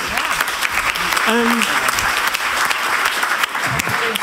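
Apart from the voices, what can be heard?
audience applause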